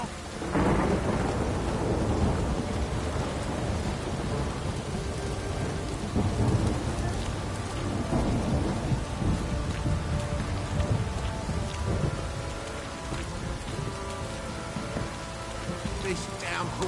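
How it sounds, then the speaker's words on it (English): A heavy downpour pours steadily throughout this Witcher 3 scene, with rolling rumbles of thunder and a dense wash of rain hitting surfaces; a voice talks briefly over the storm. "This downpour's a bastard, it is."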